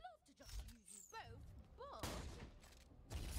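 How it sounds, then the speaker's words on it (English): A shotgun fires in the video game Borderlands: The Pre-Sequel, giving repeated sharp blasts and thuds mixed with game effects and a voice talking over them. "This shotgun fires very weirdly."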